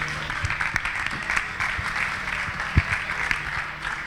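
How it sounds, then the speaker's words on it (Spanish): Applause from an audience at a veterinary studies conference at the University of Sevilla, as a speaker takes the lectern: steady mid-level clapping throughout, with a few sharper claps standing out and low-level murmuring underneath. "Un aplauso para él"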